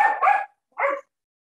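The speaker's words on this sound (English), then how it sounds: "excuse my dog." Dog barking indoors, two sharp close barks, the first a slightly doubled yelp, the second shorter, then silence.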